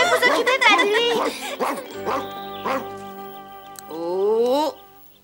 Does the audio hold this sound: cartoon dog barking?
yes